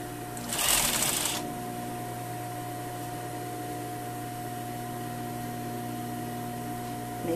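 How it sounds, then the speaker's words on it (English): A sewing machine runs in a brief, fast burst of stitching around a tailored sleeve and its lining seam, then falls to a steady low hum for the rest of the time. "I'm going to start my sewing right here at the matching seam, and I'm going to sew all around."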